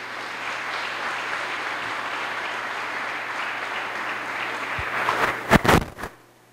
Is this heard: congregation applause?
yes